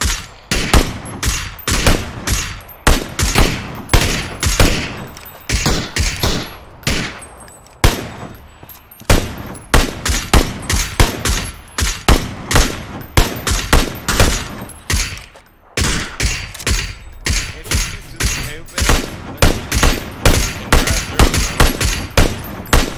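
Rapid bursts of automatic fire from a Beryl M762 rifle in PUBG on the Erangel map, loud and close, repeating in dense volleys with brief pauses across the whole stretch.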